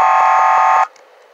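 Car horn from a Ford Taurus in the Roblox game Greenville: one loud, steady electronic honk held for most of a second, then cut off abruptly, leaving faint background.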